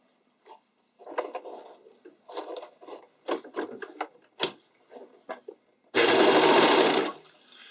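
A sewing machine stitches wide elastic onto a spandex waistband, running in short stop-start bursts and handling clicks before one sustained, louder run of stitching near the end.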